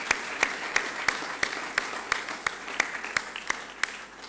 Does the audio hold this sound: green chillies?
no